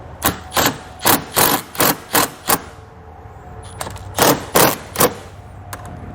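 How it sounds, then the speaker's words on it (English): A power driver shoots self-tapping screws during a Roadmaster Hy-Power diode wiring kit install, sounding as a series of short, sharp, loud bursts of whirring, seven in quick succession, a pause, then three or four more. "we can go ahead and shoot some self-tapping screws into place"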